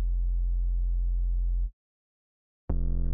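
Thor synthesizer patch built from sine waves and run through scream distortion, a round, warm lo-fi tone: one sustained note holds for about a second and a half, then silence, then a short second note enters.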